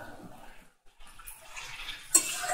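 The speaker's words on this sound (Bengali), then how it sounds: "এবার আমি পরিমাণ মতো জল দিয়ে দেবো" Water pours into a pot of beets being cooked down on the stove, a soft running splash that fades in, pauses, then swells louder near the end.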